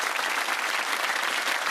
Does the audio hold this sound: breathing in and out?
no